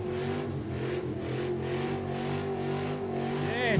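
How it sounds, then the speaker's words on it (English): Shuddering Chevy revving hard at a Summernats burnout elimination, a loud sustained engine roar with pulsing harmonics and rising pitch toward the end, close and continuous. "Is he giving that a rev or is he giving that a rev?"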